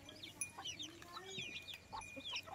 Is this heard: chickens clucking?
yes